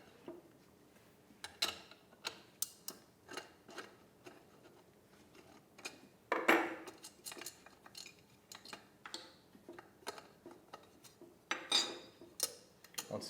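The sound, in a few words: 10mm socket removing chainsaw muffler cover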